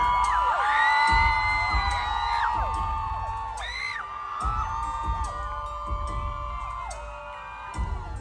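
Crowd cheering and screaming for a celebrity appearance at a Loy Krathong event in a shopping mall, high shrill whoops and yells rising and falling in waves, with clapping and loud bursts underneath.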